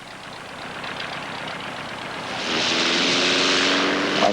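A Taylor Titch light aircraft with a Continental O-200 engine drones steadily under its propeller, the roar swelling louder partway through, with no talk.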